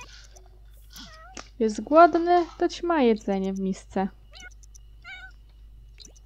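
A pet cat in The Sims 4 meows repeatedly in a quick series of drawn-out, rising and falling cries. A person talks near the start and end.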